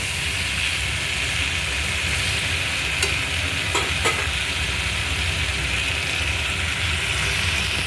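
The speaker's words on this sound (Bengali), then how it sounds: "চিনি অ্যাড করেছি করে আরও খানিকক্ষণ নাড়বো" Chunks of pumpkin and pointed gourd cook with sugar in a pan, a constant close sizzle and hiss with a few faint clinks of stirring, no voices.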